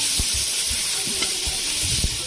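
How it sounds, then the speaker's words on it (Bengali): Ground onion, garlic and tomato paste sizzle and spit in hot oil, with a steady close frying hiss and a few soft stirring scrapes from a spoon in the pan. "তেল গরম হয়ে গেছে, আমরা প্রথমে যে পেঁয়াজটা বাটা ছিল সেই পেঁয়াজটা বাটা দিয়ে দেবো।"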